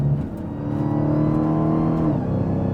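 A Dodge Demon 170 accelerates hard, its supercharged Hemi V8 roaring with a deep, throaty rumble and a high supercharger whine rising over it.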